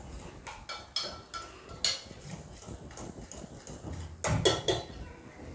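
Gram flour and rice flour batter being stirred in a bowl with a spoon for homemade vada pav, giving a quiet, irregular series of clinks and scrapes against the bowl, with a few sharper knocks.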